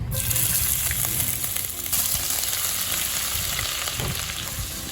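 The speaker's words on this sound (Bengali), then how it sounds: "আদাটা একটু ভালো করে ভেজে নেব" Chopped ginger fries in hot oil and ghee, a loud steady sizzle with occasional stirring scrapes and crackles throughout.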